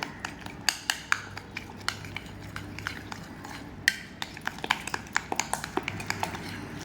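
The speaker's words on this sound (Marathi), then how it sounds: "इथे मी एक वाटी साखर बारीक करून घेतलेली ती आपण ह्याच्यामध्ये मिक्स करून घेऊया आणि हे छान असं हलवून घेऊया" A utensil stirs ground sugar into chocolate cake batter in a bowl, giving a quick irregular series of light metallic clinks and taps close by over a faint background.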